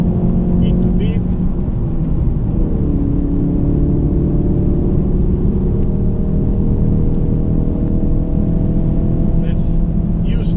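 A Ford Focus RS engine pulls hard in fifth gear at Spa-Francorchamps, heard from inside as a loud, steady drone with rising whine tones and road rumble underneath.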